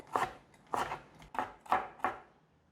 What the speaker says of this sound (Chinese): 接着切碎，这个可以切碎一点。